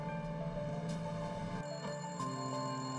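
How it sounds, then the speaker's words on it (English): A telephone rings in a store, its bright electronic tones repeating over a steady hum, loud and close with no talking. "The phone was already ringing when he arrived."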